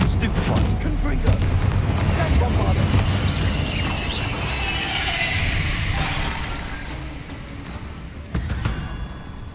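A Confringo fire spell explodes in Hogwarts Legacy, a dense booming burst with crackling debris that rolls on and slowly fades, with a smaller thud near the end.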